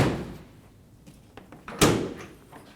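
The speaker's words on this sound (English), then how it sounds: "Check that the tailgate works." Tailgate on a 2019-2025 Ram 2500 pickup truck being shut: a softer clunk first, then a single sharp, loud slam near the end of a quiet stretch.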